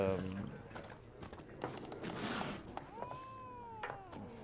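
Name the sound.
cat meowing in video game The Witcher 3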